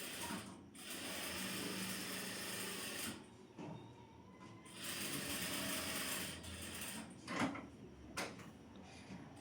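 A sewing machine stitching a folded blouse lining for a short top, running in steady whirring stretches of a few seconds broken by short pauses and a couple of sharper clicks, close but low in level, without speech.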